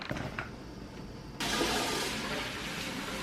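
Tap water runs into a kitchen bowl for rinsing strawberries, starting with a sudden gush partway through and continuing as a steady close splashing stream, with no talk.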